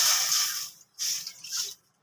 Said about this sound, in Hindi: अब इसमें डालेंगे हम पानी